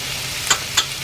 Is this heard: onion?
yes